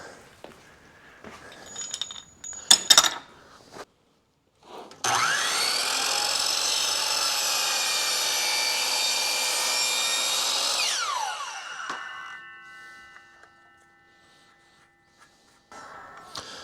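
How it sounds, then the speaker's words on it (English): A power saw cuts through wood trim in one loud, steady run of about six seconds, with the motor winding down afterward and a few clicks and knocks around it. "And let's plug our saw in."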